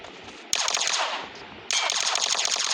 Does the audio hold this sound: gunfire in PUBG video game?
yes